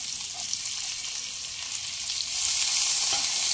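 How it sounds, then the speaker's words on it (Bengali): Two medium chopped onions sizzle in hot oil tempered with whole spices and cloves for a jackfruit and prawn curry, a constant close frying hiss that grows louder partway through. "কুচিয়ে নেওয়া দুটো মিডিয়াম সাইজের পেঁয়াজ দিয়ে দিলাম।"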